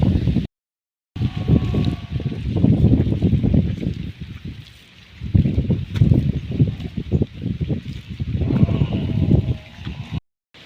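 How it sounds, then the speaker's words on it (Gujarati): Strong wind gusts buffet the microphone in heavy, rumbling surges that rise and fall, with a couple of brief silent gaps, outdoors in a village among buffaloes. "પવન બહુ છે એટલે પવનનો જ વધારે તો અવાજ આવતો હોય છે"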